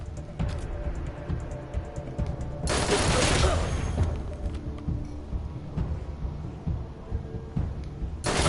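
A low-level gun fires in the post-apocalyptic game Wasteland 3, producing a dense burst of shots, with a quieter second burst near the end, over a low rumbling background.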